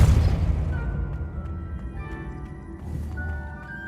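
A Depulso force-push spell from Hogwarts Legacy lands with a loud boom at the start, then fades into a low rumble with faint tonal chimes and scattered game effects.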